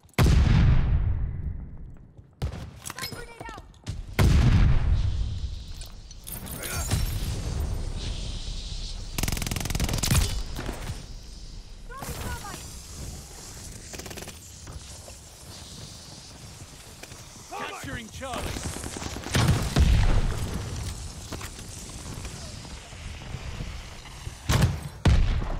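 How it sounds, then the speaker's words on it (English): Gunfire and a stun grenade in the multiplayer game Call of Duty: Vanguard, with loud sharp bursts and blasts scattered through a busy battle mix, and voices speaking over the action. "Stun grenade out."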